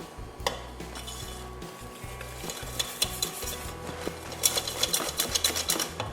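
Egg yolks whisked with sugar in a bowl for a pear caramel dessert batter: quick, rhythmic metallic clinking and swishing close up, growing busier toward the end, with no one talking.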